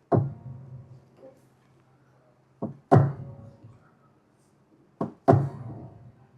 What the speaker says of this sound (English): that string sound that came after I hit the pedal, it's called damper resonance